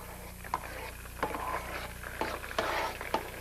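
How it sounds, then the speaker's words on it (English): Sweet and sour shrimp stirred in a pot over gentle heat: a quiet bubbling sizzle with a handful of distinct spoon scrapes and knocks against the pot, spaced about a second apart, close and without talk. "so we'll just take and mix this stuff around a bit"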